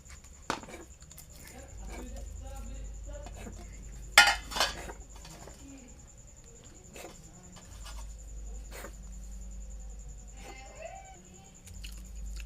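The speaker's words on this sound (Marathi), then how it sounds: "आता मी हे बारीक करतो टोमॅटो आणि कांदा." Onions and tomatoes being finely chopped on a board in a home kitchen, giving sparse knife taps with a couple of louder clinks of utensils, close and fairly quiet, with a low background hum and a little faint talk.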